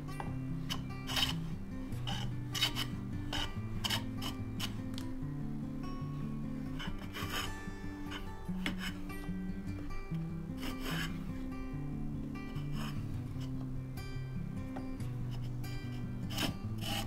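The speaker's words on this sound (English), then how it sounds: "We're gonna use a jack plane on the other side to knock down those two high spots in the front and the back." A hand jack plane set for very thin shavings works a wooden board to flatten high spots, giving repeated rhythmic rasping strokes at close range with no talk.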